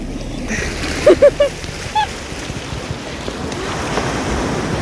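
Sea waves roll and wash onto the shore during rain, a continuous rushing surf mixed with wind buffeting the microphone and a few brief voice-like calls early on.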